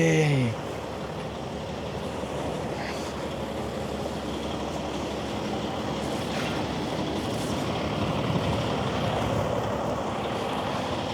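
Wind blows steadily outdoors on a winter day in Toronto, a broad continuous rushing roar buffeting the microphone amid traffic, with no talking.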